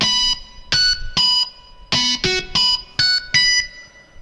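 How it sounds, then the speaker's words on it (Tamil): Distorted electric-guitar tone with tap harmonics played on a Roland ES7 keyboard, a series of loud, bright, buzzy sustained notes and short chords in separate bursts with brief gaps, heard alone without talk. "இந்த டோனு எக்ஸாக்டாக டிஸ்ட் கிட்டார் வந்து உங்களுக்கு ஓரளவுக்கு கொண்டு வருது."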